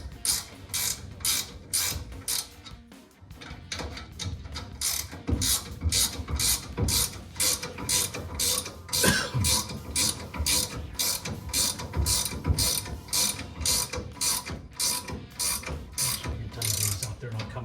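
Ratcheting 7/8 wrench turning bolts on a 1973 Camaro, a steady run of rapid, crisp clicks in repeated bursts, close and fairly loud, with a short pause early on and no talking.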